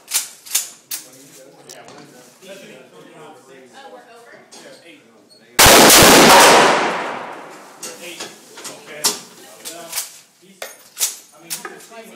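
A single loud rifle shot on an outdoor shooting range, a sharp blast with a long decaying roar, set between stretches of scattered talk and sharp clicks and taps.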